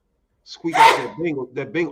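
A single sharp sneeze bursts out close to the mic during a casual sports podcast conversation, followed immediately by continuing talk.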